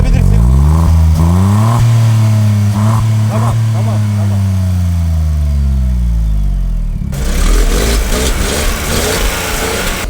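A Brabus Smart car's engine is revved hard nearby, climbing and falling in long sweeping roars before settling into a rougher, busier idle.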